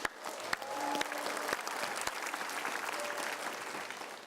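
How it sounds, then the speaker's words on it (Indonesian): Studio audience applause on an Indonesian news talk show, a dense, even patter of clapping with a few sharp louder claps near the start, fairly faint overall. "Tepuk tangan untuk Ki Gendeng Pamungkas"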